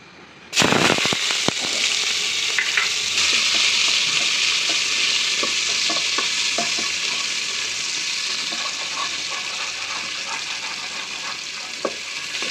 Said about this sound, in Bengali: তো এখন প্রথমে আমি এখানে পেঁয়াজ দিচ্ছি।